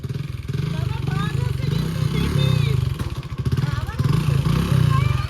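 A new motorbike's engine idles and revs unevenly at close range, a steady mid-pitched drone with rough pulsing, while people talk nearby throughout.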